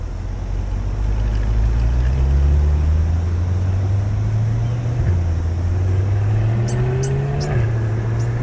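Chevrolet C8 Corvette convertible driving past at low speed, a steady engine drone whose pitch rises and shifts as it moves, loud and close, no talk.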